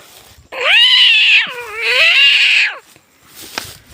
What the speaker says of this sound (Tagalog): Uy, nag-aaway guys yung pusa kag sawa.